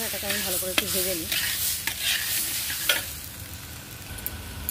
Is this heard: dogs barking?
no